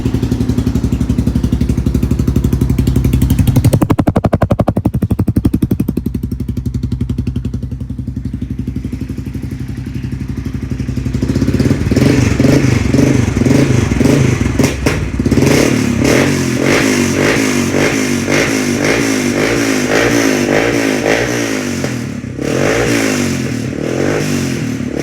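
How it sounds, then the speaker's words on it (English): A 1999 Yamaha Wolverine 350 ATV with a DG exhaust runs through a cold start, idling with an uneven thumping rumble and then revving in repeated rising and falling bursts, loud and close, with no talk. "Sounds pretty good with that DG exhaust."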